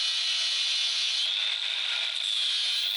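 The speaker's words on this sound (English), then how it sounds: "I'm going to use a flap disc to go ahead and try to flatten that out a little better." Steady, harsh abrasive grinding of a flap disc against a sledgehammer head, a continuous high-pitched rasp with no pauses.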